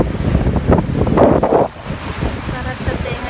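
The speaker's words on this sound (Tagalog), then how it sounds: "Sarap sa tenga yung hangin ng dagat." Sea wind and waves at an island shore, loud gusty wind buffeting the microphone over rolling surf, easing off partway through.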